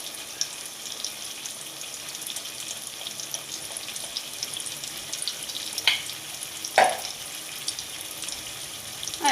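Masala with turmeric powder and salt frying in oil in a pan, a steady low sizzle with a few sharper scrape-and-clatter bursts from stirring near the end.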